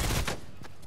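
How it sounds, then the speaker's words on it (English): Rapid gunfire from the Fortnite video game: a loud, dense burst of shots in under a second, fading quickly, with no talk over it. "Who's shooting at me?"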